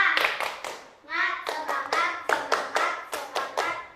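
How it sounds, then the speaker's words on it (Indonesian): Schoolchildren in a primary classroom perform a rhythmic group spirit clap, sharp unison hand claps in a patterned beat with a brief chanted vocal break early on, close and moderately loud. "tepuk semangat"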